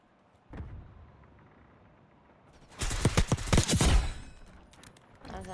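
Video game gunfire: a single sharp shot early, then after a quiet stretch a loud, dense burst of rapid automatic fire and impacts lasting over a second, with another shot at the end.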